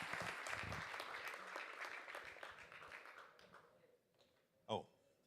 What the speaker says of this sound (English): A big round of applause for Chairman Jim Jordan.